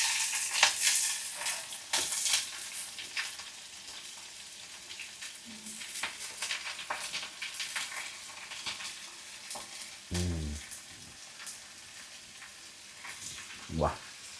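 Chopped onion frying in a pan with green chilli, a continuous crackling sizzle with scraping stir strokes and a few louder clatters, close by, with brief quiet voices in the background.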